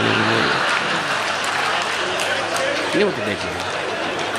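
Applause from a mushaira and kavi sammelan audience in Ichalkaranji greets poet Kapil Jain, a steady wash of clapping with crowd chatter and a voice speaking over it.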